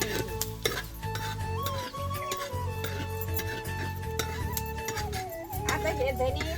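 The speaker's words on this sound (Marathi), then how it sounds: "आता धने टाकले ते पण चांगले भाजून घ्यायचे" A utensil scrapes and stirs coriander seeds and dal roasting in oil in a pan, with a soft sizzle beneath the repeated scraping. Background music runs throughout.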